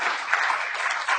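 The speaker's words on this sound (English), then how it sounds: "And maybe we can applaud for that too." Brief burst of audience applause at a hacking talk on access control systems, many hands clapping together steadily and fairly close for about a second.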